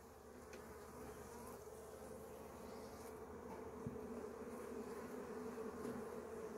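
Honey bees hum over a hive frame of capped brood and heavy honey, a dense, even buzz held close and steady throughout, with no voices.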